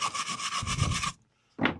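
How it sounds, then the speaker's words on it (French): A wire brush scrubs caked soil and grass off a Navimow i210 robot lawn mower, a harsh rasping scrape of about a second followed by a short pause and one more brief stroke, close up. "Voilà, un coup de brosse métallique."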